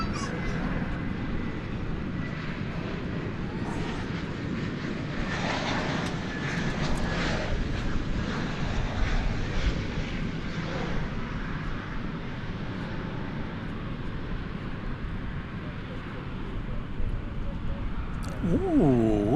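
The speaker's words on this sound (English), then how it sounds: "Let's check out a Spirit flight coming in from Fort Lauderdale. It's an Airbus A321neo." A Spirit Airlines Airbus A321neo arriving from Fort Lauderdale at DFW Airport at night makes a continuous broad jet roar that swells in the middle and holds loud to the end, with faint background noise.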